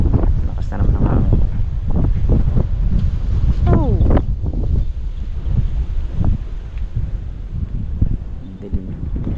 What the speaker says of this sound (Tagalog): Lakas na naman ang hangin.